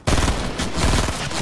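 Close, loud gunfire from a basic burst rifle in Fortnite: a dense rattle of rapid shots that begins abruptly and continues without pause, with no talk.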